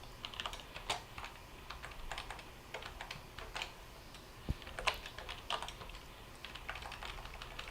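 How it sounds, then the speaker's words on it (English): Someone types on a computer keyboard during a recorded lecture, producing quiet, irregular clusters of key clicks with brief pauses, heard faintly in the background without speech. "Okay, somebody's typing."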